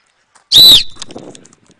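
A coach at a football camp gives one loud, sharp whistle blast lasting about a quarter second, close by, followed by faint rustling and distant background noise.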